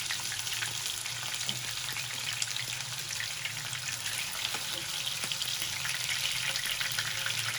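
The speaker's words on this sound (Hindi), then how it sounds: "तेल हमने डाल दिया है, हमारी स्टिक्स मैरिनेट हो चुकी थी। अब इसको हम बिल्कुल धीमी आंच पे फ्राई करेंगे" Marinated chicken boti sticks fry in oil over low heat, giving a steady, even sizzle with scattered small pops and crackles that continues unbroken throughout, with no talking.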